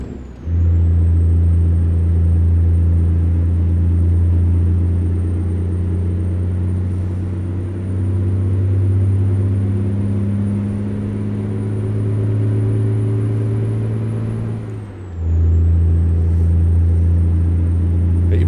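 A heavy truck in American Truck Simulator drives the coast-to-coast map with a steady, loud low engine drone and a high whine, dipping briefly as it shifts gears, then resuming alone.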